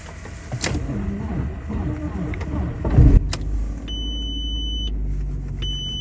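An Audi A4 B6 on a weak 11.4 V battery cranks briefly and catches with a thump, then settles into a low steady idle while warning beeps chime repeatedly.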